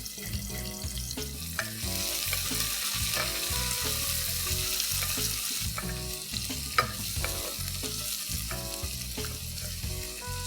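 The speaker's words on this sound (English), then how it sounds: "Now mix these onions really well with the spices in the pan." Two thickly sliced onions sizzle and crackle in hot oil with spices in a curry pan while being stirred, with steady close frying hiss and repeated scraping strokes throughout.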